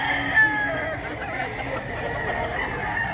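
A golden boy rooster at the Bocaue pet market in Bulacan lets out a crow amid busy, noisy market ambience, the call partly blended into the surrounding din.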